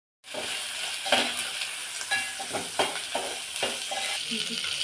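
Green chillies sizzle in a hot pan with a steady crackling hiss, broken by a series of close stirring scrapes at a quick, uneven rhythm.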